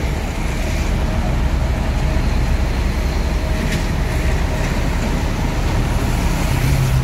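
Bus engines idling and rumbling at a busy Palembang bus station as coaches arrive during the holiday homecoming rush, a steady, loud, dense low drone of heavy vehicles with continuous traffic noise throughout.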